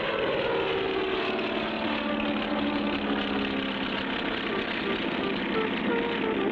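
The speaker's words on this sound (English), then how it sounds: "hop into the plane with Spinner and Paddlefoot" Propeller airplane engine droning steadily and loudly in a cartoon, a continuous rumbling roar with no breaks.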